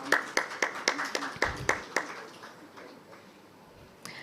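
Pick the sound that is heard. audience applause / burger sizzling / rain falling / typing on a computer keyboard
audience applause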